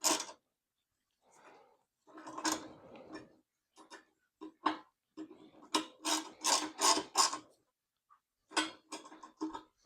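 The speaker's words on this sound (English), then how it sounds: "Now we're going to tighten things up." A ratchet tightens bolts on a new sissy bar on a Harley Low Rider motorcycle in bursts of quick clicking strokes with short pauses between them, close and fairly quiet.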